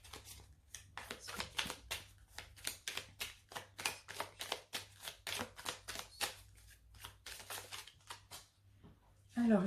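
Oracle cards from Ciro Marchetti's Fin de Siècle Kipper deck being shuffled by hand in a steady run of crisp, quick riffling bursts, close and fairly quiet, with a brief voice at the very end.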